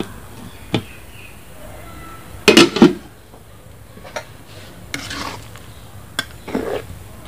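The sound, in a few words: wok for cabbage being set on the lit stove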